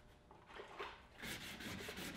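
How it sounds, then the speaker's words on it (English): Hand wet sanding with 180-grit paper on the body of a 1960 C1 Corvette under restoration, a steady close rasping rub with rhythmic back-and-forth strokes. "This is called wet sanding for all you that don't know what wet sanding is."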